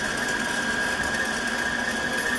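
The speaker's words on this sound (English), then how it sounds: "some chuck that I'm grinding up here real nice" Meat grinder grinding chuck steak, a steady motor whine with a constant high tone and a grinding rumble, continuous and fairly loud with no talking.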